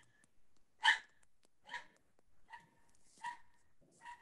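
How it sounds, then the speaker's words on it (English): Puppies bark in a series of five short, sharp yaps spaced irregularly, faint and slightly distant, with quiet gaps and soft breathing-like noise between them. "Hello, puppies."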